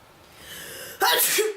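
A single sharp sneeze bursts out after a quiet intake of breath, close and loud.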